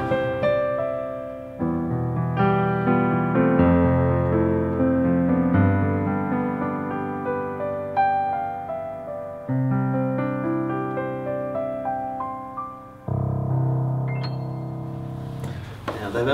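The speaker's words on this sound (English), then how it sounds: "So your piano sound is this." A Yamaha Clavinova CLP-series digital piano plays its CFX concert grand sample in a flowing sequence of chords and melody, with notes ringing and decaying between phrases, loud and close with no voices.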